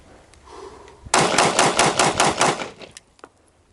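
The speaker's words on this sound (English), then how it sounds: "I'll shoot at a pace about 4 to 5 rounds a second, somewhere around there, and watch as I do this" A pistol fired rapidly at roughly four to five rounds a second, a sharp close burst of about ten loud shots in even rhythm, preceded by quiet handling noise and ending in silence.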